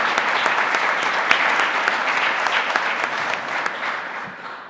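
At the PyCon UK 2022 welcome session, a conference audience claps in a dense burst of applause, with a few sharper close claps standing out before it slowly thins toward the end.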